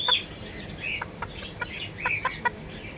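A rooster of a non-local breed clucks in short, soft, spaced calls close by, a few sharper notes standing out against quiet background noise, with no speech.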